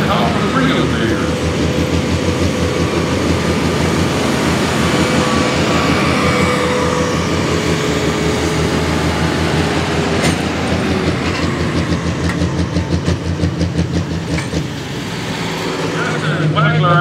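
A John Deere pro stock pulling tractor at a tractor pull at the Western Kentucky State Fair in Hopkinsville gives a loud, continuous, close engine roar that fills the whole stretch without a break.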